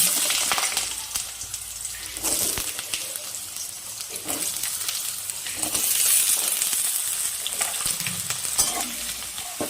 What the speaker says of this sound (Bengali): এবার কেটে রাখা আলুগুলো দিয়ে দিচ্ছি।